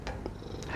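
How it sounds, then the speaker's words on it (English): A cat purrs while resting on a lap indoors, a soft, low continuous rumble that stays faint and close throughout the brief moment. "And if you can hear some purring, then my cat is on my lap."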